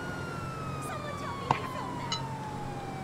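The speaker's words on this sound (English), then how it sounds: "So I got lights and sirens." Police car siren in the video game GTA, a steady wailing tone sweeping slowly downward under game sounds, with a couple of short sharp knocks, moderately loud.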